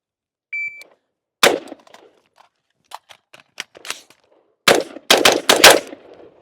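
Colt 727 carbine clone fired at an outdoor range: sharp, loud gunshots, a single shot, scattered metallic clicks and handling of a magazine reload, then a quick burst of rapid shots, with silence between.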